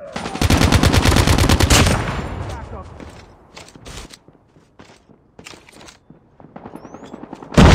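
Loud automatic gunfire from the Call of Duty Mobile video game, a fast burst of machine-gun shots for about two seconds, then sporadic single shots and short bursts with quieter gaps, ending on a sudden loud shot.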